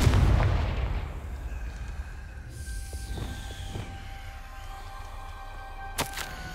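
A Confringo fire spell bursts in Hogwarts Legacy with a loud booming blast at the start, then a decaying rumble with a few sharp crackles and a brief bright snap near the end.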